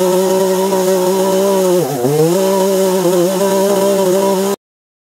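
A chainsaw runs loud and steady close by, its engine dipping briefly under load midway as it bites into wood, then holding its strained whine before cutting off abruptly near the end.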